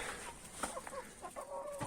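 Soft clucking from chickens, a few short calls scattered over faint background hiss, fairly distant.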